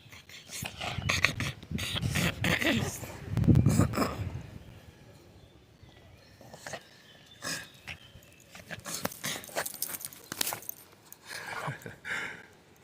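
A dog makes a run of close, scratchy grunting and snuffling noises in irregular bursts, louder early on and then quieter, with rustling in between.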